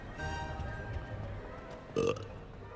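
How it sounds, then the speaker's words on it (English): A single short, loud burp in Hogwarts Legacy as a polyjuice potion wears off, rising suddenly out of quiet background ambience. "Burp, burp, burp, burp."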